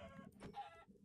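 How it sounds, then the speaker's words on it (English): Minecraft chickens clucking in a short, faint run of soft clucks, with no talking over them. "oh my god, so many chickens."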